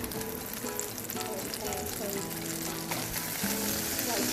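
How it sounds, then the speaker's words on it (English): Butter melting in a pan for white sauce, a steady, close sizzle and crackle that fills the whole stretch without pause. "I will melt some butter in the pan."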